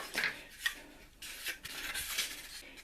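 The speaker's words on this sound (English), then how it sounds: "did it by eye, taking lots of shavings off, lots and lots of shavings and a bit of sanding." Quiet, close scraping strokes of a hand blade shaving down balsa wood for a model plane, several short rasping passes in an irregular rhythm with no talking.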